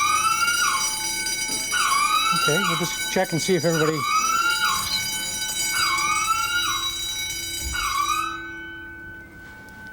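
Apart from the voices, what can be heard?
fire alarm sounding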